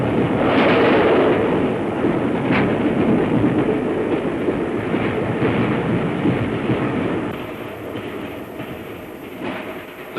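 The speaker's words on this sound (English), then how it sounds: "The train gathers speed." A steam train hauling about 450 tons gathers speed, rumbling steadily and loudly with faint clickety-clack, the roar easing slightly toward the end.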